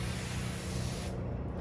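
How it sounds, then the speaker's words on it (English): A VF ES100 cordless electrostatic backpack sprayer fogs a fine mist, giving a steady, loud, close hiss that runs through the whole moment and thins slightly near the end. "these additional sprayer heads do a great job of fogging a very fine mist"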